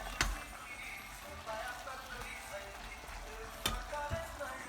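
A saucepan on a stove sizzles and fries softly in a quiet kitchen, with a few brief clinks and stirring knocks scattered through the low, steady crackle.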